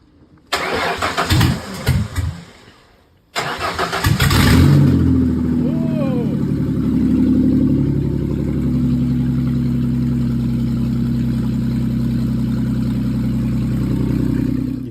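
A V6 New Edge Ford Mustang, run without its exhaust and after a starter repair, cranks in two attempts, then catches and settles into a loud, raw, steady idle close by.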